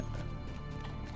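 A goat mount's hooves trot steadily in the online game Lord of the Rings Online, a faint, continuous patter of quick footfalls under dense game ambience.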